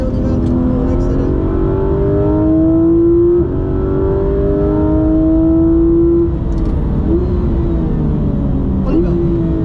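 Porsche race car engine holding a loud, steady drone that climbs in pitch through several rising sweeps, with brief dips between gear changes, close and continuous throughout; faint voices underneath.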